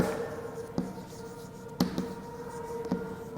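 Soft scratching and tapping of writing during a classroom lesson, quiet and continuous, with a few sharper taps standing out against a low steady hum.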